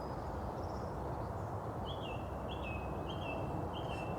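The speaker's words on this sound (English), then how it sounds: "listen to the song thrush that's calling beside me." A song thrush calls beside a garden apiary, short repeated whistled phrases in quick batches, clear but modest over a steady outdoor background hiss with no voices.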